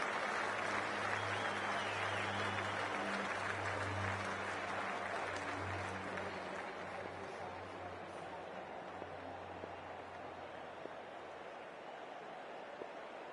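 Steady applause and cheering from a near-capacity crowd at a cricket stadium for a Faisalabad Wolves versus Peshawar Zalmi match, a broad continuous wash of clapping under a low hum, gradually easing in volume.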